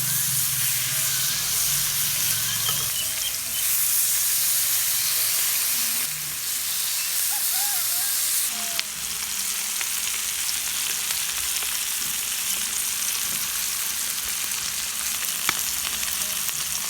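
Chicken frying in hot ghee, a loud, steady sizzle and hiss close up that keeps going throughout with small spits and crackles and brief stirring shifts.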